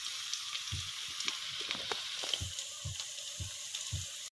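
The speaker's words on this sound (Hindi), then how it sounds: "धीमे आंच में इसे फ्राई करना है।" Egg frying in ghee over a low flame, a steady soft sizzle with faint crackles and pops throughout, fairly close, with no voices, before it cuts to near silence at the very end.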